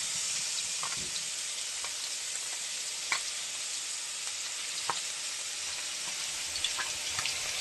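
Khoira fish frying in a wok of shallow oil, a steady close sizzle and hiss throughout with a few sharp pops and crackles spaced across it.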